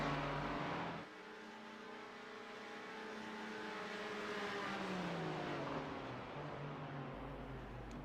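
Race car engines roar through a sim racing game at an Atlanta Motor Speedway oval event, a Porsche among them, a loud sustained drone with rising and falling pitch as cars pass and draft.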